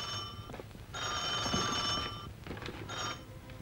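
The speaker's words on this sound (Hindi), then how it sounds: "नासर मिया, तुम्हारा फोन" An old landline telephone in a 1981 Pakistani film scene rings in two clear bursts, a loud electric bell tone that stops and then starts again, with no talking over it.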